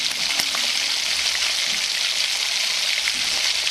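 Onion sizzles in oil with cumin and garlic-ginger paste over a wood-fired stove, a dense, even crackle that carries on without a break, close and fairly loud, with no voices.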